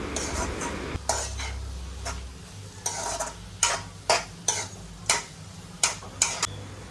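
Spoon stirring crushed peanut powder into a ridge gourd curry in a pan, several scraping strokes that grow into a steady rhythm over a faint sizzle, close by.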